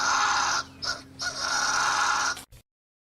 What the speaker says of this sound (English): This is the sound of a fisher cat.